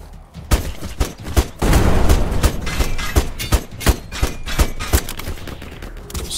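Rapid gunfire in the video game Black Skylands: loud, sharp shots in quick irregular bursts, with a heavier rumbling blast partway through, close and dominant.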